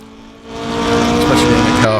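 A 1600 Ford Escort race car from the early 1970s, in Assetto Corsa, drones loudly and close with a steady engine note that swells in volume, then shifts pitch sharply near the end.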